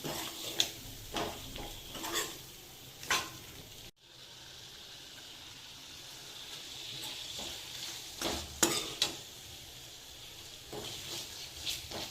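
A spoon scrapes and stirs a wet mixture in a pan, with intermittent clinks and soft sloshing over a quiet background hiss.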